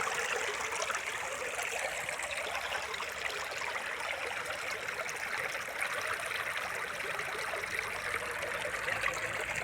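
Continuous rushing of water flowing steadily along a channel, an even, bright hiss that never lets up, with no voices.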